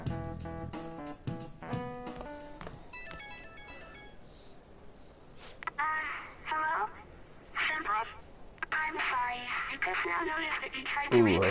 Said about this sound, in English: Ooh, her phone.